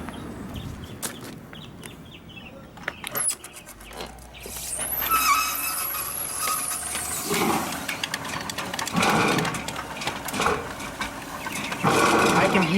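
A sewer cleaning machine runs in an Orangeburg main line pipe, its blade catching on a flat spot with grinding and high squealing over a steady motor drone, close by, while people talk.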